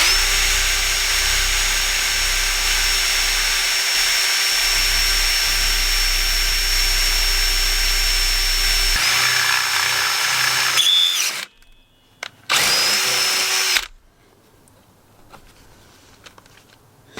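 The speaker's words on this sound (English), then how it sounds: "first up, we're going to drill this hole" A power drill whines steadily at high speed for several seconds, grinding through a metal motorcycle brake pedal, then stops, starts again briefly, and falls silent.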